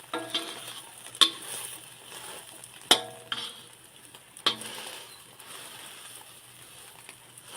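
Vegetables fry in a little oil in a pan, a steady soft sizzle broken by a few sharp clacks of a utensil stirring and striking the pan, close up.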